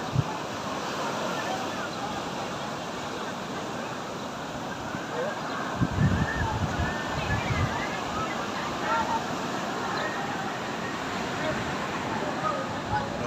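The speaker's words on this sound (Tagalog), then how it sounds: "Malakas yung alon." Strong surf breaks on the shore at Star Beach Resort in Morong during low-pressure weather, a steady roar of churning waves and wind noise running throughout, with a heavier crash around the middle and people talking faintly.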